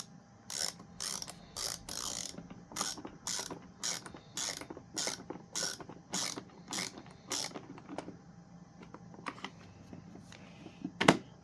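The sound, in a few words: ratcheting screwdriver driving a screw into a Bissell PowerTrak vacuum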